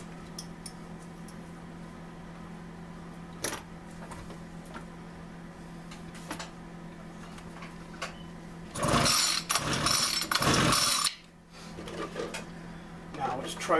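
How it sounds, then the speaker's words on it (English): Carburetor being pulled off a small engine: quiet clicks and taps give way to a loud burst of scraping and rattling metal in the middle, then softer handling noises, with a steady hum underneath. "Go ahead and get the carburetor off here."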